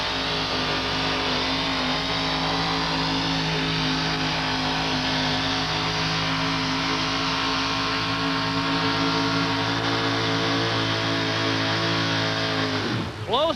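A General Motors of Canada pulling truck, the Canadian Warrior, roars at full throttle dragging a sled down the track at a 1987 truck pull, a loud sustained engine howl that swells, holds, then drops off at the end.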